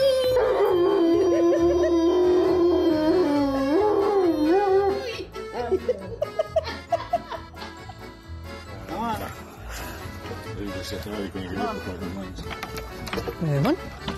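A German Shepherd lets out one long, loud, wavering howl over music, then the music carries on busily with scattered sharp accents.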